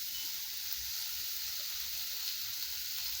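Onion, garlic and curry leaves sautéing in a pan over high heat for pepper chicken fry, a faint, even sizzle steady throughout with no voices.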